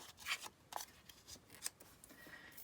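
A few soft snips and rustles of scissors being handled up close, quiet and intermittent, without talking.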